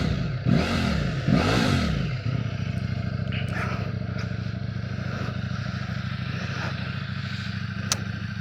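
Ducati Streetfighter V4S motorcycle engine revving in two quick blips, then settling into a steady close rumble for the rest of the stretch, with faint clatter above it.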